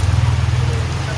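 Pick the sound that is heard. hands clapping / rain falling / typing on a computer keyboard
rain falling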